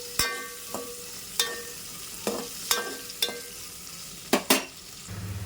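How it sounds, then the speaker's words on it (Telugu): Onions and tomatoes frying in a pan, with a low sizzle under repeated sharp clinks and scrapes of a utensil stirring against the pan, no voices. "ఇప్పుడైతే టమాటాలు వేగుతున్నాయి కదా"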